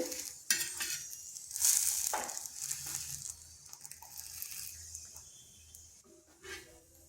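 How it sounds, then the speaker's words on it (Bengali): Cauliflower paratha frying in a pan and being turned over, a steady close sizzle with rustling, pressing and scraping as the flatbread is flipped and pushed around. "এইভাবে উল্টিয়ে পাল্টিয়ে ভেজে নিতে হবে"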